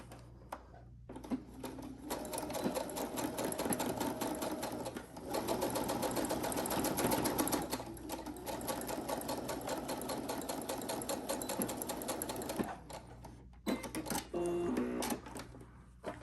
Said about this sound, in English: we're going to stitch across at 1/4 of an inch seam allowance